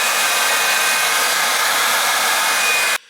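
Hot air blasts steadily at a Yamaha Tenere 700 motorcycle bearing housing, a loud, even, close whooshing hiss that runs for about three seconds and then cuts off abruptly.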